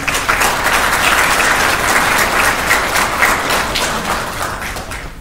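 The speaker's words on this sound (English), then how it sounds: "So please give yourselves a round of applause." A graduating class at a ceremony applauds itself with loud, dense, sustained clapping that eases off slightly near the end.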